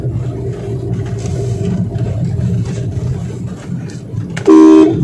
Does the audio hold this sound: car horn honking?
yes